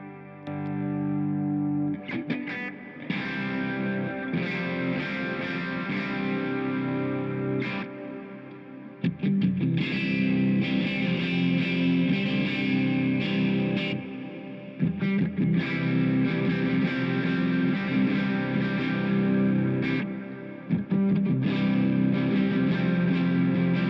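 Electric guitar, a Fender Jazzmaster with Fender Pure Vintage '65 pickups, played through effects, warm and thick with chorus-like shimmer and some grit, chords and notes ringing steadily with brief pauses between phrases.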